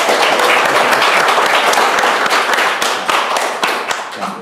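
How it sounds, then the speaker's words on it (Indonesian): Audience applause welcoming a design school dean at a talk event, a dense sustained wash of many hands clapping, loud and close, gradually thinning toward the end with no voices over it. "Tolong tepuk tangan dulu buat Pak Martin."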